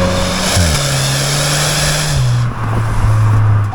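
A 2025 Hyundai i30 hatchback's dual rear exhaust drones loud and steady, its pitch rising, then dropping as it shifts, with a brief dip near the end.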